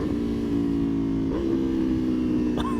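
A 2018 Aprilia Tuono V4 motorcycle engine drones steadily and close with a rich, even tone, then gives a quick sharp rev near the end. No talk.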